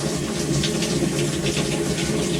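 A Maytag washing machine's water valve filling the drum during manual test mode, giving a steady, loud rush of incoming water with a continuous hiss and low hum, heard alone without talk.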